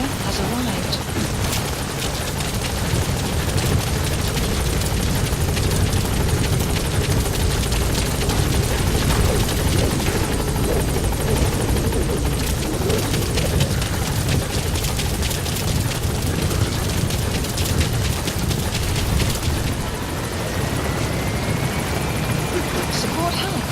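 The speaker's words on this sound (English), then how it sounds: "Support helicopter has arrived." Support helicopter arriving at a landing zone in a video game, a loud, steady rotor and engine roar filling the whole stretch with a rising whine near the end, while a voice talks over it.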